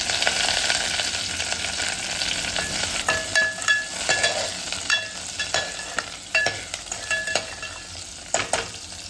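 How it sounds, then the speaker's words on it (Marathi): Garlic and green chillies frying in hot oil with mustard seeds and curry leaves, a steady loud sizzle with repeated scraping stirs from a spoon against the pan. "त्यानंतर आता लसूण घालते आणि हिरव्या मिरच्या घालायचे"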